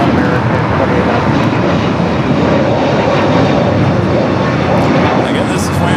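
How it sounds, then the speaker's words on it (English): A TAP Air Portugal airliner in FIFA World Cup special livery arrives at LAX, its engines producing a loud, steady roar that holds throughout as it passes near. "we got Top Air Portugal up next for arrival."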